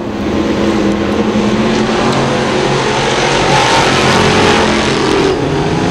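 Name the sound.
crate sportsman modified race cars racing on track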